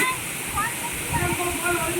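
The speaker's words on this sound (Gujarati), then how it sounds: "महल का वॉटरफॉल" A palace waterfall pours with a continuous close hiss and splash of falling water, fairly loud and even from start to finish.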